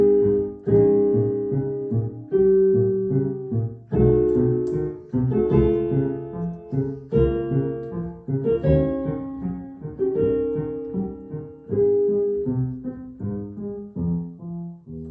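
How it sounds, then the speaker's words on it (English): Solo piano playing a Beethoven sonata passage, held tenuto chords in the right hand over a detached staccato bass line, moderately soft and steady, with no talking. "there's tenuto chords on the right hand, and there's staccato bass line in the left hand"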